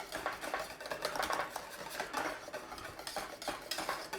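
A spoon stirs bechamel sauce into a corned beef lasagna, giving a steady, continuous scraping and sloshing with faint clinks against the dish, close up and with no talking.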